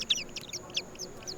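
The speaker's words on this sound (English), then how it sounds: "They make a specific noise when they want food, and it's a very raucous chirp" Captive chimney swift chicks chirping for food, a series of short, shrill, raucous calls in quick bursts, close and fairly faint over a quiet background.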